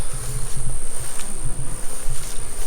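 A dense, continuous buzz of honey bees swarming close by at the front of a hive, steady and fairly loud with no talking.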